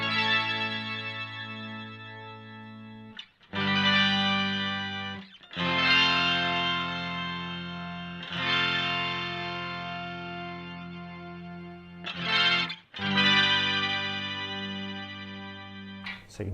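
An Electro Harmonix POG2 octave pedal on electric guitar with detuned octaves lowered: a series of sustained, warbling chords, each struck anew and ringing out, with a short pause between phrases and no talking.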